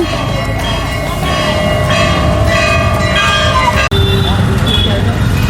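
Bells ring loudly and continuously during evening aarti at a Hanuman temple, a sustained metallic clanging over a crowded ambient din, briefly cut off near the end before carrying on.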